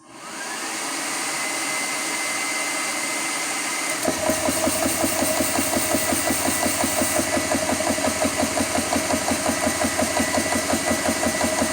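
A Hill GX CS3 high-pressure air compressor starts with a rising motor whine, then from about four seconds settles into a loud, steady chugging pulse as it fills a scuba-style tank.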